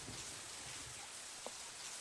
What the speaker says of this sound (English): I do like the rain effect with the rain on the floor.